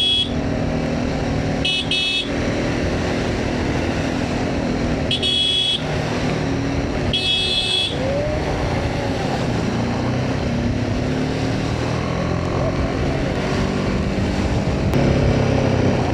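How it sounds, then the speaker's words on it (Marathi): Road traffic jam met on a motorcycle ride from Mumbai to Ladakh: a steady rumble of engines and road noise, broken by three short horn honks in the first half, with no talking. "ट्रॅफिक लागली आहे"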